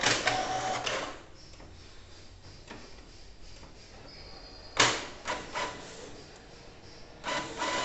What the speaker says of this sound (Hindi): अब एक ब्लैक प्रिंट भी हम देते हैं।